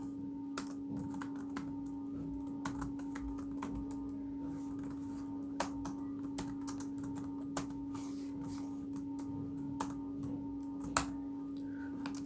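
Quiet, continuous clicking of computer keyboard keys while C code is typed, with a few sharper keystrokes standing out over a steady low electrical hum.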